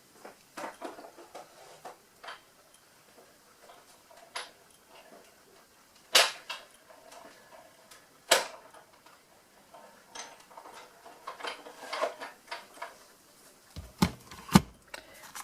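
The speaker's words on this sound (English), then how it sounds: "Pop my top plate on, take a deep breath and feed this through the Big Shot." Plates fed through a Big Shot die-cutting and embossing machine, producing a series of irregular clicks, ticks and sharp cracking pops as the crank turns, close and fairly quiet between louder snaps.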